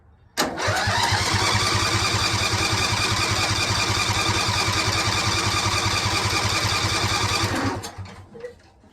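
A Briggs & Stratton Intek 21 HP engine cranks on choke in one continuous run of about seven seconds, a fast loud mechanical chugging that stops abruptly, followed by a few faint clicks.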